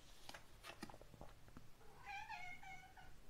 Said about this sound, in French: Ah bah il y a mon chat qui miaule,